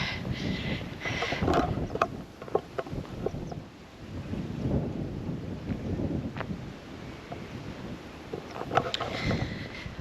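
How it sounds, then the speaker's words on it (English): Wind picking up outdoors on a run in northern England near the Solway, buffeting the microphone with continuous gusty rumbling and swells plus occasional knocks. "The wind's getting up and it's looking a bit dull."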